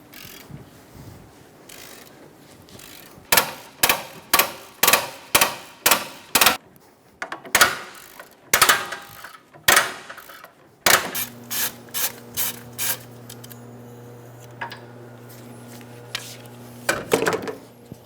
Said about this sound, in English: Using a 14mm socket,